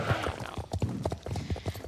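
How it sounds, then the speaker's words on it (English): Horse hooves clip-clopping at a steady walking rhythm in the Star Stable video game, close and fairly soft, with no talk over the hoofbeats. "let's get back to the horse footsteps"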